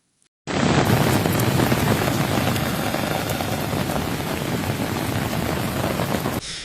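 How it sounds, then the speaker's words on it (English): Heavy rain pours down during flash floods in Dharamkund village, Ramban district, Jammu and Kashmir, a loud, dense, unbroken hiss that starts abruptly and holds steady for several seconds. "despite heavy rains and continuous thunderstorms"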